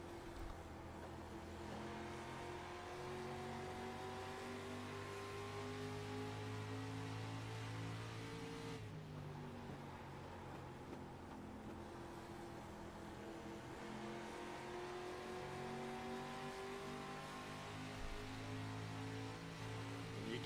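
A street stock race car engine in a sim racing game roars at sustained high revs at USA Speedway, droning steadily with brief pitch drops as it shifts, then climbs again, loud and close throughout.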